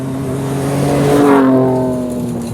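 A 2023 Ford Ranger Raptor with a twin-turbo V6 and switchable exhaust revs up, its engine note rising to a loud peak and easing back down across a single sustained rev, heard alone without talk.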